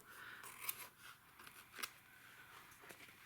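Scissors snip a strip of washi tape to length during a magnet craft, giving a few quiet, crisp cuts close by against a faint background.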